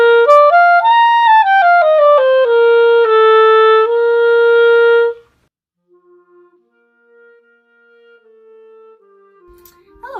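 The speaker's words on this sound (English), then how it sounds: "An example of something that could be played in the Clarion range would be something like this." A clarinet plays a short melodic phrase in its upper clarion register, clear sustained notes stepping through for about five seconds, loud and close, followed by quieter scattered tones and near silence.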